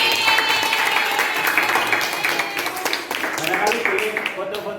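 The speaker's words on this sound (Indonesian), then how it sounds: "Tepuk tangan dulu." A classroom of students bursts into dense, loud applause that keeps up for several seconds before thinning slightly near the end, with voices mixed in among the clapping.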